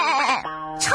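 A cartoon character's voice imitates a goat with a single wavering, nasal bleat, loud and close, lasting about a second with no other sound around it.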